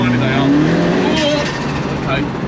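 A 275bhp Renault 5 GT Turbo, engine-swapped with a C20LET red top turbo engine, runs close by with a steady, throaty drone and a slight rise in revs, while people talk over it.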